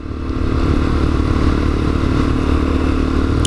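A Lexmoto Assault motorcycle rides along at around 30 mph with a steady, loud mid-pitched engine drone and wind rush, constant and close throughout, with no talking.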